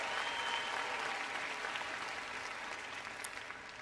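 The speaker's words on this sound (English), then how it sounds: "give a round of applause once again for your family and friends here today" Commencement crowd applause filling a large arena at a university ceremony, dense sustained clapping from a big audience that holds steady and slowly eases off over several seconds.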